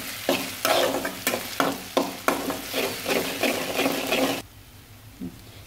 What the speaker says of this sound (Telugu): కొంచెం ఫ్రై చేయండి అల్లం వెల్లుల్లి పేస్ట్ని.